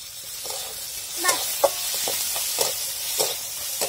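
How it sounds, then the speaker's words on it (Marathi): Onion fries in hot oil in a pan for rava upma, a continuous hiss broken by repeated scraping stirs at a loose, uneven rhythm, close and moderately loud. "थोडा आपला कांदा बी थोडा गरम झालाय, आपल्याला त्याच्यात तेल टाकायचंय थोडस"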